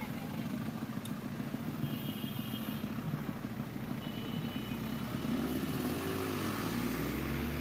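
Motorcycle engines drone steadily along a street in Higuey, Dominican Republic, a dense continuous rumble of several bikes idling and revving nearby, with no clear talk.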